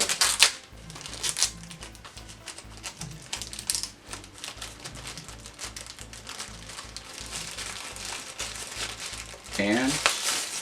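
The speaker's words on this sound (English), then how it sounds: "Just open it up and kind of peel this nice little plastic." Protective plastic film being peeled off a UGreen card reader box, a run of close crinkling, crackling and tapping handling sounds that swell into a louder tearing burst near the end, with a voice speaking at times.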